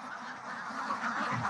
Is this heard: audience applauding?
no